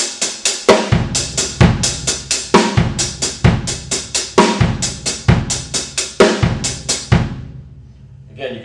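Drum kit playing a linear pattern in groups of three, with left-hand accents punching through crisp cymbal and snare strokes in a quick, steady rhythm for about seven seconds before ringing out, no talking.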